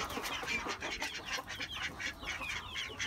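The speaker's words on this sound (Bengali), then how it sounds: "হাঁসটা তো বৃষ্টি পেয়ে অনেক খুশি" A duck out in the rain quacks and honks repeatedly in a steady, fairly close series of calls, with other fowl mixed in and no talking.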